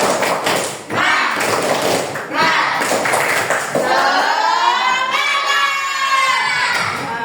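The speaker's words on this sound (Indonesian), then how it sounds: "Kalau sudah siap, mana tepuk semangatnya? Tepuk semangat." A school class does a rhythmic spirit clapping chant together, with brisk patterned claps mixed with children's chanting voices and shouts filling the room for several seconds.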